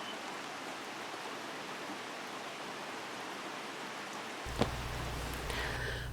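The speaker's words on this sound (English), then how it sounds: "We have heavy rain, so you may hear that in the background." Heavy rain falling outdoors, a steady broadband hiss that holds evenly throughout, with a brief knock near the end followed by a low hum.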